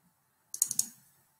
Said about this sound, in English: Double click it